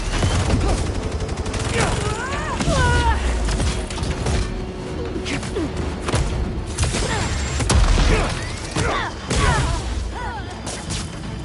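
Enemies fire on Spider-Man in the superhero game Spider-Man 2: rapid bursts of gunfire and heavy impacts crackle continuously, with voices shouting and whooshing swings mixed in.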